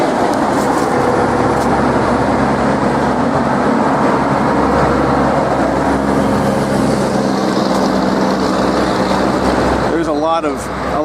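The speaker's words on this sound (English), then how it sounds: "lot of traffic noise by here" Loud, continuous rumble of heavy traffic close by, a dense roar of engines and tires with no pauses throughout.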